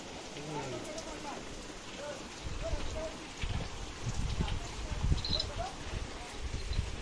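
Rain patters on surfaces in a garden orchard, a faint steady hiss of drops that thickens partway through, with a voice speaking briefly at the start.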